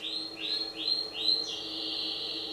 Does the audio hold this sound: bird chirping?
yes